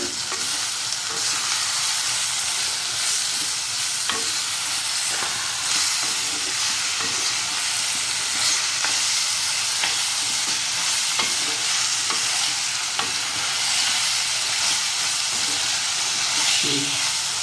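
Cauliflower pieces fry in oil in a pan, giving a steady loud sizzle throughout with intermittent stirring clatter, no talking.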